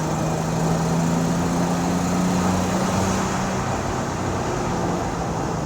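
A 1976 Datsun 280Z cruising in fifth gear at about 50 mph and low revs, a steady, droning engine and road roar heard from inside the car, constant and fairly loud without a break.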